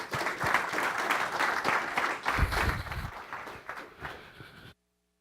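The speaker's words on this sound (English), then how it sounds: "Let's give him a round of applause." Applause from the audience at a city council meeting, a dense patter of many hands clapping that holds steady for several seconds, gets louder briefly near the middle, then thins out before it stops.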